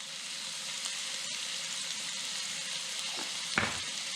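Peppers sautéing in a pan with garlic, kosher salt and black pepper for Punjene Paprike stuffed peppers, a soft steady sizzle throughout with a couple of brief utensil scrapes near the end, no talking.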